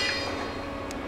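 A weed-spraying train rumbles steadily past at close range, a low continuous roar of wheels and engine with a brief hiss near the end.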